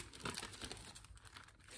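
Soft crinkling of decoupage paper with a hot-air-balloon print as it is handled during an unboxing of journaling supplies, with a few brief rustles and crackles, close but quiet.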